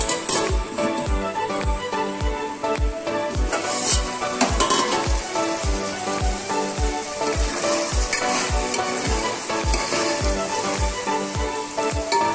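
Chicken fries in a pan for biryani with a continuous sizzle, and regular clinks and scrapes from stirring recur throughout.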